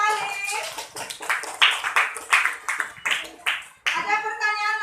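Rhythmic group hand clapping in a classroom, steady and fairly close, with children's voices calling out over and between the claps.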